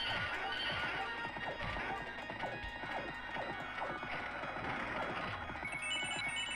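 A horse whinnies amid a busy, cluttered Knights of the Round game soundscape of hoofbeats, clashing hits and crashes, loud and continuous throughout.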